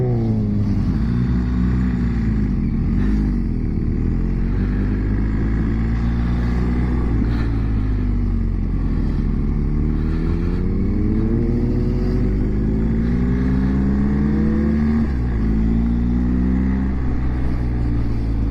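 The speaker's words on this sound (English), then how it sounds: "Simon GTR 1400 in front, and a couple of other people, and then Boo Rider in front of me on his pocket rocket" Several motorcycles ride together in a group, including a GTR 1400 and a BMW, their engines rumbling steadily and close throughout, with pitch rising and falling as they accelerate and ease off.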